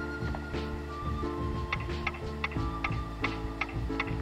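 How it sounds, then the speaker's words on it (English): A ticking countdown timer in the PlayStation game Kingsley's Adventure, a steady tick-tock set against looping game music, without speech. "Sounds like there's a timer ticking down about something."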